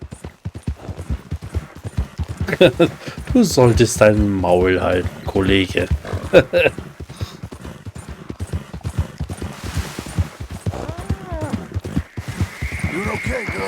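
Horse hooves clip-clopping at a steady walking rhythm in Red Dead Redemption 2, a continuous train of close, sharp knocks running under men's dialogue and a short snort or whinny from the horse.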